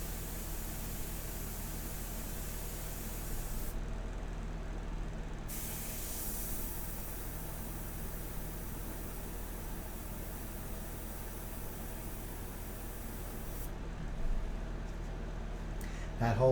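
An airbrush spraying India ink for a portrait painting gives a steady, close airy hiss that runs almost unbroken, with brief changes in tone as the trigger is eased and pressed again.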